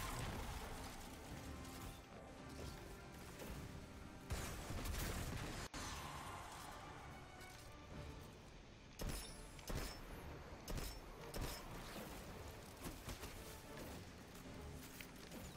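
Rapid gunfire and weapon mechanisms from the video game Destiny 2 during a Vault of Glass raid, bursts of shots and clicking layered over a dense, continuous game soundtrack.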